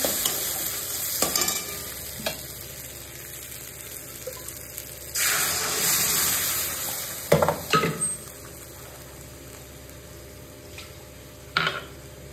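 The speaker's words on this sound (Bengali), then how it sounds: "আমার মশলাটা কষা হয়ে গেলে এবার ডালটা দিয়ে দেবো।" Boiled pigeon pea dal, cooked with salt and turmeric, goes into a pan of fried spice masala and is stirred. A loud gushing sizzle flares midway, then scattered scraping stirs and soft bubbling follow, with no talk.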